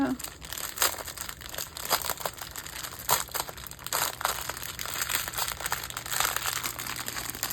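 Plastic packaging of a diamond painting kit being opened, steady close crinkling and crumpling that carries on throughout, with a low hum underneath.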